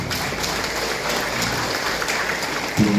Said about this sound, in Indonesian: mari kita tepuk tangan untuk kemuliaan Tuhan